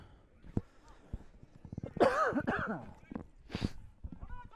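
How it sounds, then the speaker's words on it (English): A person coughs and clears their throat close to the microphone, a rough burst in the middle with a few smaller sounds around it. "Excuse me there, coughing on the mic."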